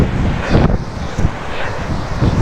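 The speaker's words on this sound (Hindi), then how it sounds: "बहुत ज़्यादा ठंडी हवा चल रही है।" Cold wind blows steadily on the Kedarnath mountain trek, loud and close as a broadband rush with buffeting gusts against the microphone; no speech.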